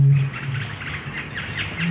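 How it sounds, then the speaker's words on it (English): A bittern's deep, booming call resonates low and loud in a wetland, with repeated pulsing tones and bird chirps above. "That's the deep, booming call of the bittern."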